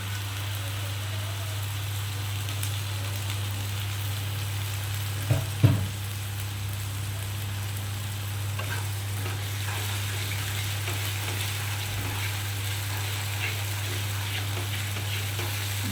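Chicken with ground ginger, garlic, tomato and green chilli paste and onions frying in a pan, a steady dense sizzle throughout with a brief pair of spoon knocks partway through, over a constant low hum.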